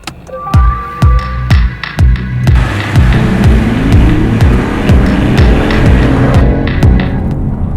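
BMW i8 hybrid sports car on the road, a loud steady engine and road drone with sharp periodic thumps, as if driving over seams, throughout.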